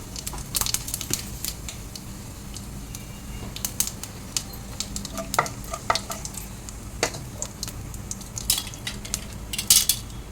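Cumin and a pinch of asafoetida sizzle in hot oil already holding dried red chilli, a cinnamon stick, a bay leaf and cardamom pods, with a steady soft crackle broken by sharp metal spoon clinks and scrapes against the pan.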